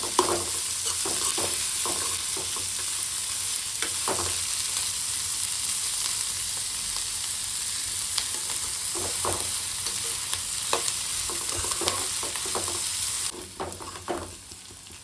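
Ingredients fry in a pan until golden brown: a steady, close sizzle runs throughout, broken by soft clicks and scrapes of stirring, with no one talking.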